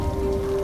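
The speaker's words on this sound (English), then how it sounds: "But a November downpour marks the end of the 8-month rainy season." A heavy November downpour in the Colombian wild, a dense, steady hiss of rain on surfaces with no break.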